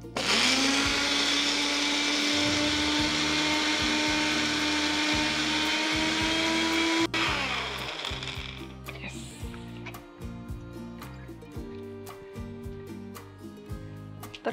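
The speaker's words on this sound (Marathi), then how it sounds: "तर आता आपल्याला हे मिक्सर मधून एकदम बारीक" A mixer grinder whirring loudly as it grinds sautéed coconut and garlic into a paste, a steady high motor whine that then turns to rougher pulsing, clattering bursts.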